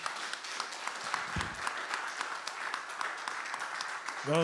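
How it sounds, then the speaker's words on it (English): An audience at a community meeting in Kenosha applauds in a soft, distant patter that runs steadily throughout, with a brief low thump partway through and a voice starting at the very end. "Round of applause, huh?"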